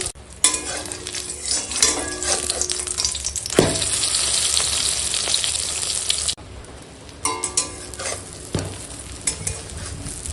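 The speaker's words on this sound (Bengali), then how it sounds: "ডিম ভাজা হচ্ছে এখন।" An egg with chopped onion and salt fries in a pan, a close, steady crackling sizzle with spatula stirring and scraping, quieter after a pause and then rising again in bursts.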